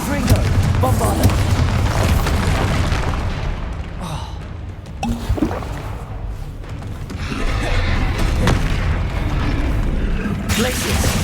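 Spell blasts and booming explosions burst repeatedly in a Hogwarts Legacy duel, loud and dense with clattering impacts, while a voice shouts spell names over the combat.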